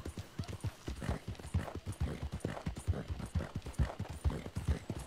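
A ridden horse in Red Dead Redemption 2 moves at a steady pace, its hooves making a continuous run of rhythmic clip-clops, clear and moderately close, with no voices.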